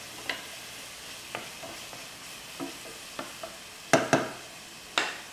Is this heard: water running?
no